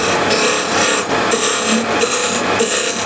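A woodturning scraper cutting across the end grain of an unidentified wood on a lathe, giving a loud, continuous raspy scraping with brief rhythmic dips as the tool works the spinning piece.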